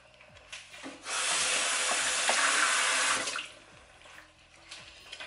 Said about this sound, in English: I just rinsed the spoon.